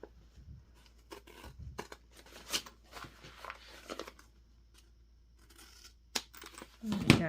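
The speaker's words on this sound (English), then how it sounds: "I'm gonna go ahead and trim up the excess of the zipper tab" Sharp snipping and crinkling of scissors trimming the excess fabric tab of a zipper on a sewn block pouch, several quick cuts spaced out over near-silence with soft handling noises between.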